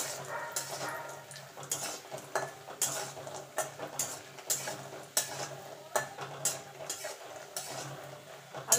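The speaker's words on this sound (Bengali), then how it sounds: "বড়িগুলো ভেজে নেব।" Bori lentil dumplings fry in hot oil while a metal spatula scrapes and clatters against the pan in an uneven rhythm of sharp knocks over a continuous sizzle.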